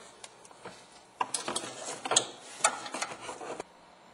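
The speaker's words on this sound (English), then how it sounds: "Once it's in, go ahead and secure it in by turning it." A headlight bulb on a Dodge PT Cruiser is reinstalled and twisted into its socket, giving a close series of small plastic clicks and ratcheting ticks over a few seconds, fairly quiet, with no talking.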